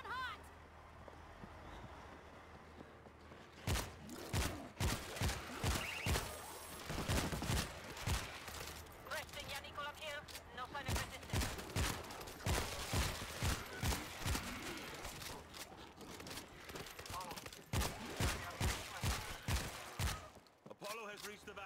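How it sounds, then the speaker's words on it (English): APC turret gunfire in World War Z, a Rome level: heavy bursts of rapid automatic fire repeating in clusters, loud and close, with voices talking underneath at times. "APC turrets going hot!"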